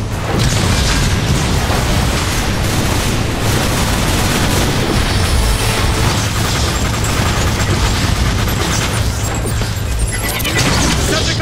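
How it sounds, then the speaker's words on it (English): Dense, loud combat from the Transformers War for Cybertron video game: guns firing grenades, rapid gunfire and booming explosions roar continuously and overlap, with no clear pauses. "Guns are firing grenades!"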